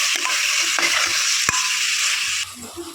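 Tomatoes fry in a pan for biryani while being stirred, a bright steady sizzle broken by several scraping strokes of the spoon and a sharp knock near the middle, easing off toward the end.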